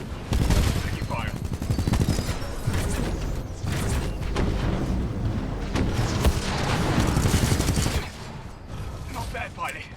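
Titanfall 2 firefight against a Titan, with dense rapid gunfire and mechanical clanks filling most of the span, loud and continuous, dropping slightly near the end; voices talk over the shooting.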